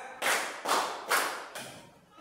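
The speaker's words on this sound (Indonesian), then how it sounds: "Tepuk 1, tepuk 2, tepuk 3" A class of students claps together in a steady counted rhythm, four loud group claps evenly spaced and close, each a sharp burst with a short decay, with no voices between them.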